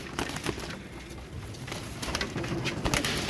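Pigeons coo softly in a loft in Kolkata, India, their low murmuring steady beneath faint wing flutters and light shuffling noise.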